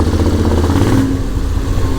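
A motorcycle with its catalytic converter and baffle removed runs close by, its open exhaust giving a rough, crackling burble with a few popping bursts over a steady low engine drone, no talk.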